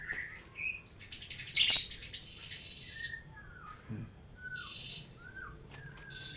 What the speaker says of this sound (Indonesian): Ditemani burung pada bunyi ya teman-teman ya.